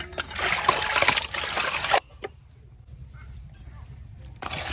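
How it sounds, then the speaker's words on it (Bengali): Koi fish are washed in running water, with a close, steady trickle and splashing that stops abruptly, leaves a quiet gap, then resumes briefly at the end. "মাছ কটা ধুয়ে নিতে আসি।"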